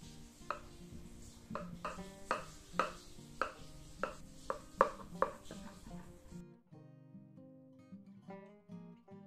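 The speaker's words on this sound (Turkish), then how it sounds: "Keskin bir bıçakla bu şekilde dilimliyorum." A sharp knife slices through a tray of Laz böreği, a layered pastry dessert, as a run of about a dozen crisp, evenly spaced cuts knocks on the pan, then quiets to a soft rustle.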